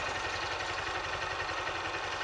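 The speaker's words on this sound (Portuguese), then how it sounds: "Agora ele vai dar a partida na moto." A motorcycle engine idles steadily at close range during a covered-circuit riding test, its low even rumble running continuously with no speech over it.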